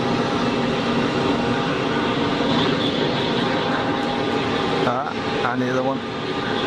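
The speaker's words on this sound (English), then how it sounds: "There's a nice looking toy on the taxi, looks like a Gulfstream." An aircraft, apparently a Gulfstream business jet, taxis at Geneva Airport with one thrust reverser bucket deployed, giving a steady broadband jet roar throughout with a brief dip near the end while people speak over it.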